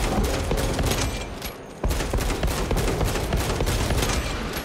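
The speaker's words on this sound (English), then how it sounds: "I might as well take pot shots at these fucking guys" Sustained loud gunfire from the video game Warhammer 40K: Space Marine 2, a dense near-continuous barrage of rapid shots with a brief lull in the middle before the firing resumes.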